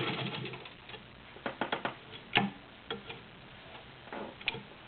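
A Good Housekeeper turquoise Class 15 clone sewing machine sews heavy-duty fabric in short bursts of close, sharp ticking stitches, separated by brief pauses with no talking.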